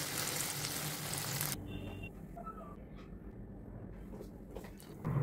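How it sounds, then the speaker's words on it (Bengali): Eggplant frying in hot mustard oil in a wok gives a loud, bright sizzle for the first second and a half, then a quieter, steady crackle with small clinks of handling. "কড়াইতে সর্ষের তেল গরম করে বেগুন ভেজে নিচ্ছি"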